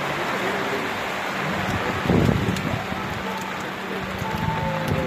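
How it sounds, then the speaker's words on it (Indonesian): Heavy rain pours steadily and loudly at a lakeside fishing competition at Tasik Sultan Abu Bakar, Pekan, Pahang, a dense close hiss with a brief heavier burst midway and faint voices beneath. "lebat hujan."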